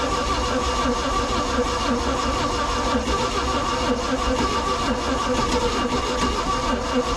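A 4.3-liter engine in a 1991 Four Winns boat cranking steadily and continuously without catching, a loud, even mechanical churn held for several seconds.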